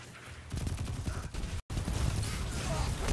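Dense automatic gunfire in an online multiplayer shooter, loud and continuous, broken by one abrupt instant of silence before the shooting resumes.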